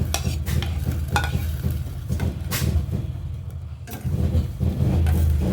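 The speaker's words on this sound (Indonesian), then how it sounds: "Jadi kita masukkan seperti wortel, tomat" Carrots and tomatoes are added to a simmering pot of soup and stirred, giving loud clattering, scraping and splashing sounds over a low rumbling background, with a brief quieter pause.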